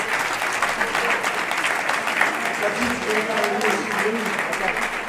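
An audience applauds school staff at an award ceremony with steady, sustained clapping that fills the hall, while a voice speaks over it.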